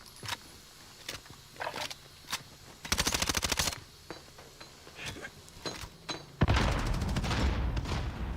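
Gunfire crackles through a shooter video game, with scattered single shots and a sustained automatic burst, then a loud grenade-like blast that rumbles at the end, fairly close, with no talking.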